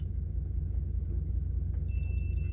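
A continuity tester buzzer sounds on an electric kettle during repair, a steady high-pitched electronic tone starting abruptly near the end over a low background hum.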